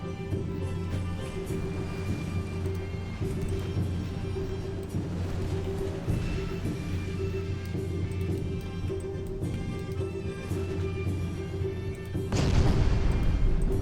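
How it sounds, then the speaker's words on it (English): Naval gunfire and shell hits in the Ultimate Admiral Dreadnoughts video game, heard as a continuous rumble of distant booms, with a heavier impact near the end. "A good hit on an enemy destroyer by an 11-incher."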